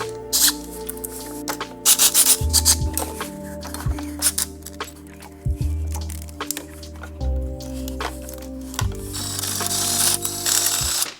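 A ratchet wrench works loose the intake manifold on an Audi S3 engine, sounding as close, loud bursts of rapid clicking broken by short pauses and a few metallic knocks, with no talking.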